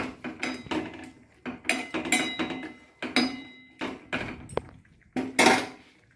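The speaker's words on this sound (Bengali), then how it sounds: "হাতা দিয়ে একটু ডালগুলোকে একটু ঘেটে দিলে ভালো হয়" A metal ladle clanks and scrapes against the sides of a cooking pot while boiled lentils are stirred for dal, a string of sharp, close knocks in uneven bursts with short pauses between them.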